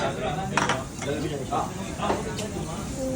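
Plates and dishes clatter and clink together in quick, close bursts during a day in Asakusa, with people talking over the sound.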